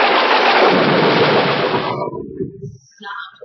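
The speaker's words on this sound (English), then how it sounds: "There was a thunderclap" A loud thunderclap on a 1980s cassette recording crashes and rumbles for about two seconds, then fades, leaving faint scattered sounds behind.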